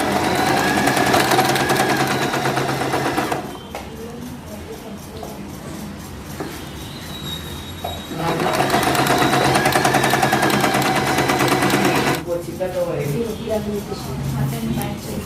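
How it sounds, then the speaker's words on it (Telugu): An Usha Janome Dream Stitch sewing machine stitches in loud bursts of steady, rapid mechanical whirring, pausing in between, with a voice talking during the quieter gaps. "ఇప్పుడు కుట్టడం చూద్దాము."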